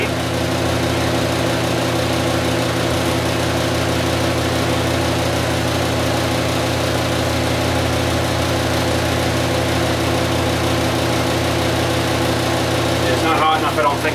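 A homemade oil burner burning diesel gives off a loud, constant roar with a fan-like rumble that holds steady throughout, close by and unbroken.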